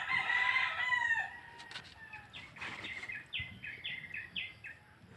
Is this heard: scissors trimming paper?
no